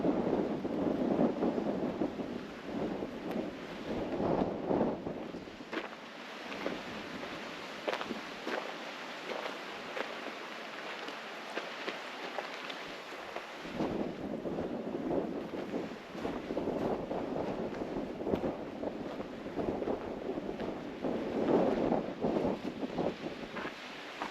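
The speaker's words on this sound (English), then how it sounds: "Sorry for the wind, guys. It is really windy out here." Gusty wind buffets the microphone outdoors at a Colorado internment camp site, rumbling in uneven bursts that ease briefly midway before returning strongly, with no one speaking.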